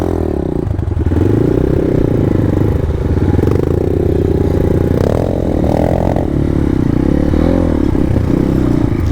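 Motorcycles ridden along a rocky trail rumble and rev close by, their engines loud and uneven, with clattering and scraping of wheels over rocks.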